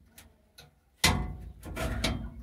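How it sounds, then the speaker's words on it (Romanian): The cab door of a Massey Ferguson 152 tractor shuts with a loud, close thud after a couple of faint clicks, followed by a second rattling knock as the door settles, with no talking. "închid ușa"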